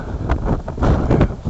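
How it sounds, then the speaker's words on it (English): Wind gusts across an open lava field on Hawaii's Big Island, buffeting the microphone in uneven, rumbling surges that rise and fall, with no voices. "This is a rather windy day for some reason"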